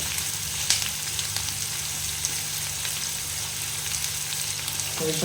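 Continuous crackling sizzle of mutton frying in hot oil, steady and close, with faint occasional stirring noises.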